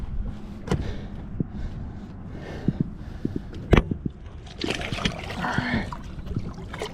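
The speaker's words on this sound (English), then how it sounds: "30-inch redfish right here, Pensacola Bay. How awesome is that? And we're gonna get him back in the water." A 30-inch redfish is lowered back into Pensacola Bay from a boat, with scattered splashes, knocks against the hull and a busier burst of thrashing water toward the end, close by.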